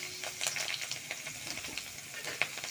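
Onion and green chilli frying in hot oil with turmeric crackle and spit steadily at close range, with a few sharper pops breaking through a constant sizzle.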